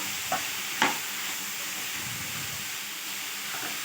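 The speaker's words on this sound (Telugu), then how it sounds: "ఒకసారి బాగా కలుపుకోవాలి" A spoon stirs cauliflower curry in a pan after salt goes in, with a steady frying sizzle underneath and a couple of brief scraping knocks against the pan.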